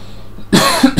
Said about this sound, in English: It's not nice to have someone coughing down the thingy.